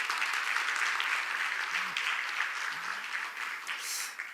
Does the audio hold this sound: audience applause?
yes